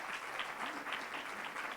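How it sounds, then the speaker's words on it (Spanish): Audience applause at a precision medicine panel during a 2015 conference session, a steady, dense wash of clapping from a sizeable crowd, moderately distant and even in level throughout. "Otro aplauso para Oscar Fay entonces."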